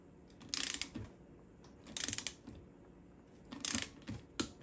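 Torque wrench ratcheting as it tightens the lug nuts on a Polaris RZR wheel, in four short bursts of rapid clicking spaced about a second apart, close and moderately loud with no talk.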